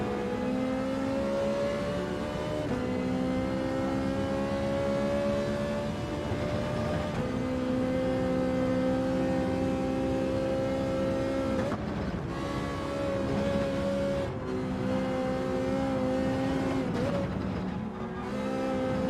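Ferrari race car engines in Gran Turismo 7 drone steadily and loudly throughout, their pitch shifting with gear changes and throttle, with a brief dip around the middle before the engines climb again.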